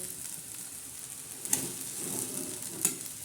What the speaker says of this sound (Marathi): आता आपण परत हलवू तिला चांगली